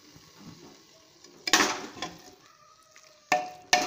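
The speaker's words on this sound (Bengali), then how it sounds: "দিয়ে আমি এটা ভালো করে নাড়চাড় করে নেব" Carrot halwa with cardamom stirred in a pan, with a quiet background broken by a few short, scraping bursts of the spoon against the pan, one near the middle and two close together at the end.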